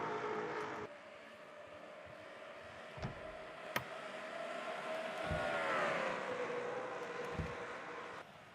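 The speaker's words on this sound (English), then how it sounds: "So some great racing going on here at Watkins Glen, no question about it" Stock cars race through Watkins Glen in a racing video game, engines droning steadily with a rising and falling pitch as cars pass, punctuated by a few sharp clicks.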